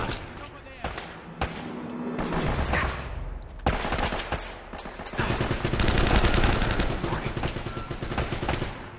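Dense M4 rifle fire and explosive blasts in the Uncharted video game, with repeated loud bursts and rapid automatic volleys under a busy combat mix, while a voice talks over it.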